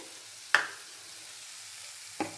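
Spice powder drops into hot oil in a pan for a Telugu amaranth-stem stir-fry, setting off two short, loud sizzling bursts over a faint steady background hiss.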